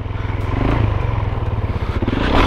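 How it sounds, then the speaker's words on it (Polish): A motorcycle rumbles nearby with a steady, loud engine drone and rough revving pulses, clattering slightly and swelling louder toward the end as it rides past. "O, motocyklista, co to za pojemność?"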